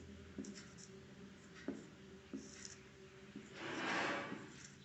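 Soft, scratchy strokes of writing on a board during a Class 9 maths lesson, with short marks spaced apart and a longer, brighter scrape near the end, all fairly quiet with no talking.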